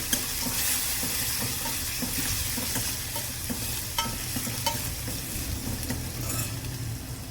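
A mixture stirred in a hot pan, a steady frying sizzle with soft repeated scraping of the spoon, close and even throughout with no speech.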